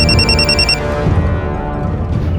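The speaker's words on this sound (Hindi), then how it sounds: "अपनी पत्नी के बेहोश होने के बावजूद भी बंका जिसका फोन उठाने पर मजबूर हो गया था" A mobile phone rings with a repeating electronic bell tone, loud and close, over a dense background of music or room noise in a crime drama scene.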